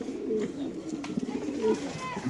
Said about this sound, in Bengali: এখানে এক জোড়া কবুতর আছে দেখেন